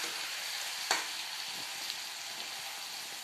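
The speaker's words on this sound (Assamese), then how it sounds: "এতিয়া আলু দিছোঁ জিৰাজনী দিলা" Potatoes frying with cumin in a pan, a steady soft sizzle with a faint stir or clink near the start, fairly quiet and continuous with no talking.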